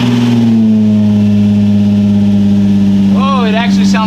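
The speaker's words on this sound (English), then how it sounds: "Let's see what it sounds like without that muffler." An Infiniti G35 VQ engine with the muffler removed, idling loud and close with a steady low drone, then revving briefly near the end with a rising, wavering pitch.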